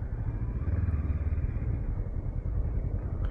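A Honda CL500 motorcycle engine rumbles steadily with a low, throbbing tone during a test ride, heard close and continuous with slight fluctuations in intensity.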